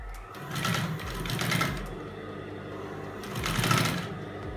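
A flatbed industrial sewing machine stitching fabric, running in two steady whirring, rattling bursts with a brief slowdown between, close and moderately loud.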